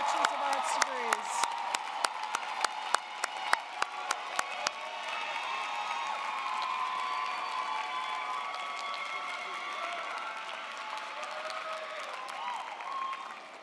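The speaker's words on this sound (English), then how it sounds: "would like to salute you with a round of applause" A large crowd at a University of Illinois Chicago College of Education spring commencement applauds graduates. Crisp, dense clapping comes first, then it settles into a sustained wash of cheering and whoops from the audience.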